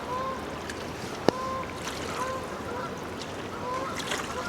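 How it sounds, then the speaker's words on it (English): Ducks flying low over the Delaware River on a cold early morning, faint honking calls scattered over a quiet outdoor background with one sharp knock partway through. "Uh-oh, them ducks coming in."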